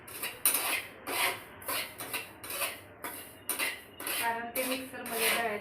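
Poppy seeds dry-roasting in a pan for homemade goda masala, with repeated scraping and clinking strokes of a spatula against the metal in a steady rhythm, close and fairly loud, with no talk.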